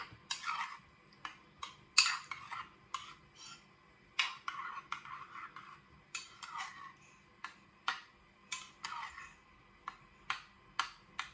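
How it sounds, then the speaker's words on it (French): Lentil croquette batter with lemon juice is mixed in a bowl, a quiet series of irregular clicking, tapping spoon or utensil strokes against the bowl, close and spaced unevenly. "Je commence à mélanger."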